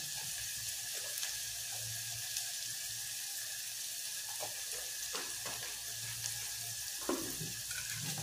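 Hot oil sizzles steadily after a pinch of asafoetida (hing) is dropped in, a close continuous frying hiss with a few light clinks and stirring taps.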